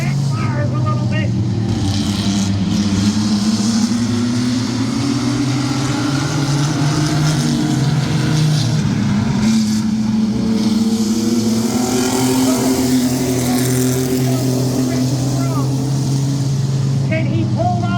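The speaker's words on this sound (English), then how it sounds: "Coming out of 4, backfires a little bit." Mini truck racing engines roar loudly and continuously at a speedway during a feature race, the revving pitch rising and falling as trucks come off the corner, with a commentator talking over the engine noise.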